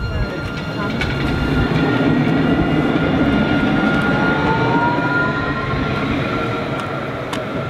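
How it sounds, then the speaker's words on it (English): A Nottingham tram pulls away from the platform at Highbury Vale station with a loud, steady electric rumble and a rising motor whine, close by and continuous. "He won't come off the platform until the tram goes."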